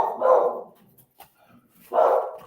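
An Australian cattle dog / beagle mix barks twice, two loud, close single barks about a second and a half apart with a quiet gap between.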